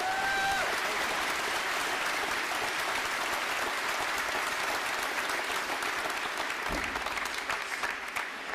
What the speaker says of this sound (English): let's give these two midshipmen a round of applause